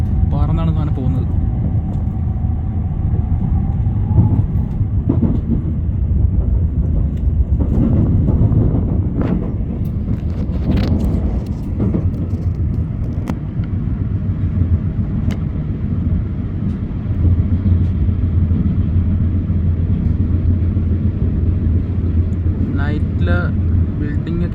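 Shinkansen bullet train cruising at high speed at night, heard from inside as a steady loud low rumble and rushing roar with brief whooshing swells, continuous throughout.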